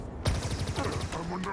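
Rapid automatic gunfire from a Halo Infinite boss fight, with a Spartan wielding a needler; dense repeated shots hammer out loudly and continuously, with a rising whine toward the end.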